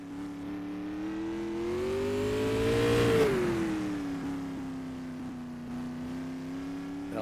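A race car runs a time-trial lap at Madera Speedway, its engine drone rising in pitch and loudness as it passes close, peaking mid-clip, then easing away into a steady fading whine.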